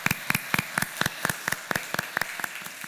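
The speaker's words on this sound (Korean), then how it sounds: "우리 모든 교우들의 생일을 축하하며 한번 박수로 축하해 주시면 고맙겠습니다" A church congregation claps for members celebrating birthdays. The sharp, close claps fall in an even, quick rhythm for a few seconds, with no voices over them.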